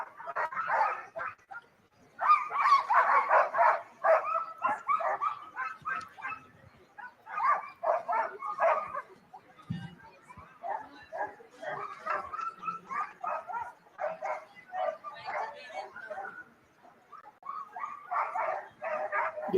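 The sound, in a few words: sled dogs barking at Iditarod start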